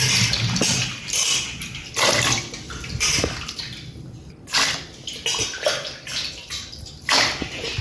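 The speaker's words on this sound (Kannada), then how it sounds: "ಮೊದಲಿಗೆ ಇದನ್ನು ನೀರು ಹಾಕಿ ಬೇಯಿಸೋಣ." Water pours steadily into a pot of raw jackfruit that was preserved in salt water, splashing and sloshing in uneven close bursts with brief pauses, and no voices.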